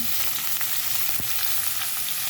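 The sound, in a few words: onions, green chillies and capsicum frying in a pan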